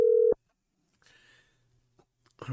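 A single loud telephone keypad tone, the kind heard when dialing a number, starts the stretch, followed by faint line noise and a brief soft rustle near the end.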